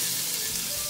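Chopped parsley and minced garlic frying in olive oil over low to medium heat, a brief, fairly loud, even sizzle with a soft hiss and no voices.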